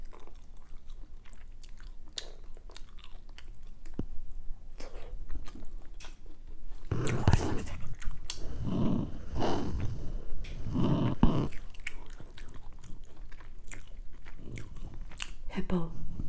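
Homemade samosa and butter chicken being chewed close to the mic, with soft crunchy bites and wet mastication sounds running throughout and a few louder bursts in the middle.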